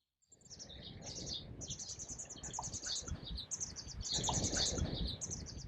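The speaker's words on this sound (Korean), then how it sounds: "새들은 이렇게 돌리네 습지에서 태어나고 짝을 짓고 새끼를 키우며 살아가는데요." Birds chirping continuously in the Mungyeong doline wetland, with bright repeated tweets over a dense, busy background of rustling ambient sound, fairly close and steady throughout.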